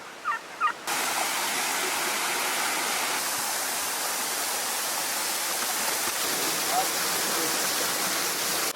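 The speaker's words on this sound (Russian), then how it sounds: "Вот здесь небольшой водопадик и вот такая мини-мини электростанция." A small waterfall beside a mini hydroelectric station in an Armenian village pours in a steady, close hiss and rush after a few brief sounds at the start.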